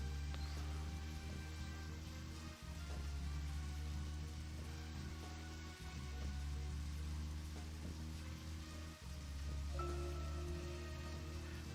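Video game rain patters steadily over a low, droning musical bed, with gentle hiss and scattered drops throughout and no voices.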